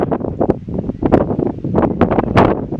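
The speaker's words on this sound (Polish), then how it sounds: "Wieje już niesamowicie." Strong evening wind sweeps over La Gomera island, buffeting the microphone in loud, irregular gusts that rise and fall throughout, with no voices.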